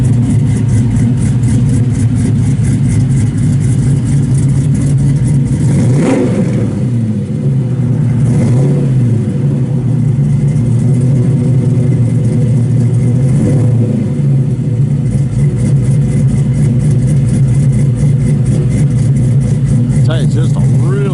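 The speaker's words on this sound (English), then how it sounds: "Got a nice little camshaft in it. Sounds real good. Got full 3-inch exhaust all the way off the back." A 1966 Chevrolet Nova II SS resto-mod with a performance camshaft and full 3-inch exhaust idles with a loud, lumpy rumble, blipping the throttle in a few short revs over a steady low drone, with a voice talking over it.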